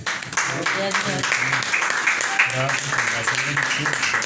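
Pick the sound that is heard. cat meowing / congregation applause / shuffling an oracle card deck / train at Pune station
congregation applause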